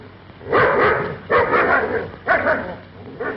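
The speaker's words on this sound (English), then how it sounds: "Go on, grab hold of that dog." A dog barks in three loud, close bursts with short pauses between them, set in a 1937 dramatic film scene.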